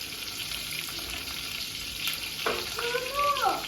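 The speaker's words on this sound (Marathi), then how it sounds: "आता दोन्ही साईडने ते तेलामध्ये फ्राय झालेले मंडळी" Food frying in oil in a pan at a home kitchen, with a steady close sizzle that swells toward the end along with a brief higher squeak of utensil or pan movement.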